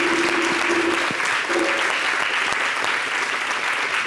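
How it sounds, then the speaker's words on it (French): A television studio audience claps continuously and fairly loudly for the whole stretch, a dense even patter with faint voices mixed in. "Donc on applaudit pour Jacob Desvarieux."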